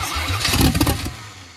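A carbureted 1986 Chevy 4.3 V6 cranks and fires up, a brief loud burst of starter and engine catching that rises to a rough rev before settling, heard up close with no talking.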